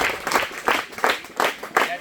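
A school crowd at a free book distribution event claps in unison, producing about six loud, evenly spaced group claps in a steady rhythm, close and clear.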